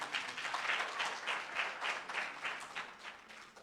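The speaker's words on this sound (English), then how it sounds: "A round of applause for him," An audience applauding in a burst of steady, rhythmic clapping that rises and pulses without a break, heard near and clear at a Botswana student leaders' panel discussion.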